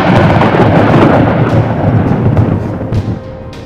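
Loud, close thunder rolls as a continuous deep rumble that slowly fades over a few seconds, heard alone without voices.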